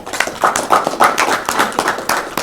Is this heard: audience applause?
yes